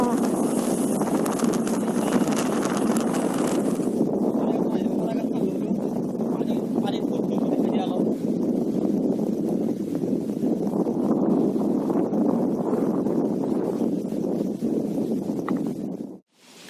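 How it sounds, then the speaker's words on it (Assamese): Steady wind rumbles and buffets the microphone outdoors by the Brahmaputra River, a broad continuous roar with a person talking under it before it cuts off. "বতাহ আহি আছে একদম ঠাণ্ডা ঠাণ্ডা"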